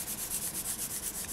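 Gold metal leaf is rubbed down onto polymer clay, giving a soft, quiet, rhythmic scuffing of about ten even back-and-forth strokes, close and alone.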